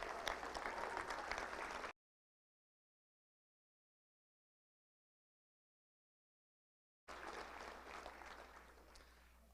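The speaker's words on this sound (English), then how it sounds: "let's give all those coaches who've done such a great job with all these players a round of applause" A Little Rock Touchdown Club audience gives a round of applause for youth football coaches: a burst of clapping, a long stretch of silence, then a second swell of applause that slowly fades.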